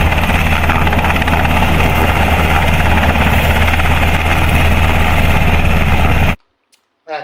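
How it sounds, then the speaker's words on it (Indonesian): Toy helicopter running with a loud, steady whirring buzz of rotor and motor that cuts off abruptly near the end, followed by a brief faint sound. "Ini mainan helikopter guys"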